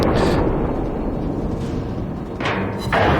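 Battleship guns booming in World of Warships, a continuous heavy rumble with a few sharper blasts, loud and close.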